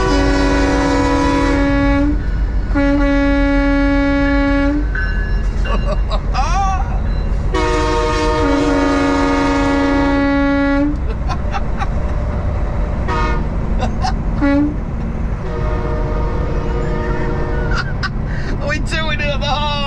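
A train rolls past, sounding its loud multi-tone horn in several long blasts with brief gaps, close and dominant over rumbling wheels, while people talk faintly underneath.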